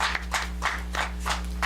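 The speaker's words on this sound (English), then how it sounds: "give her a round of applause" Brief, sparse clapping from a small audience at a panel discussion, a handful of separate claps over a steady low hum.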